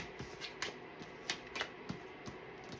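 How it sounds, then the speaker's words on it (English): Tarot cards scooped up from a tabletop during a psychic reading: a quiet, close series of irregular soft clicks and light papery taps, spaced out with short gaps, with no voice. "I'm going to scoop all these back up"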